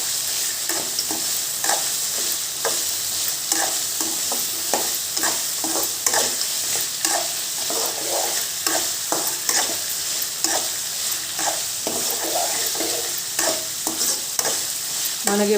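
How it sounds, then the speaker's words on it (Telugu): Peanuts roasting in a pan for peanut chutney, a continuous dry rattling sizzle with steady rhythmic stirring scrapes throughout, close and loud with no talk. "ఈ పల్లీలన్నీ బాగా వేయించుకుందాం"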